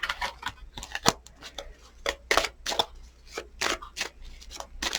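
Tarot cards shuffled by hand at close range, a run of quick papery riffles and slaps in an uneven rhythm, with no talking.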